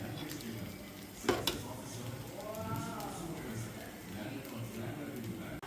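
Chicken fries in a pan at a street food cart, a constant frying hiss under nearby voices, with a sharp metallic clang of utensil on pan partway through.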